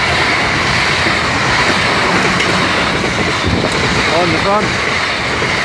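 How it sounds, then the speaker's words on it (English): A Class 444 Desiro Express train rushes past at speed without stopping on a diverted run at Cosham High Street, loud close rumble and clattering wheels with a brief squeal, while someone talks over it. "Oh, the fast train, there's non-stopper."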